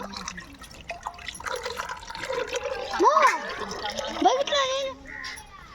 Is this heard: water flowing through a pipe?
yes